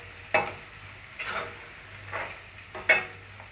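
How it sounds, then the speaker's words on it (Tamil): Masala spices, including asafoetida, turmeric and salt, are sautéed in a pan for small onion kara kulambu, with a soft, steady sizzle broken by four distinct scraping stirs of a spoon against the pan. "மசாலா பொருள் நல்லா பச்சை வாடை போகிற வரைக்கும் வதக்கி விட்டுட்டே இருங்க"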